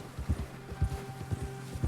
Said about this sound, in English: So I always like Charles's horse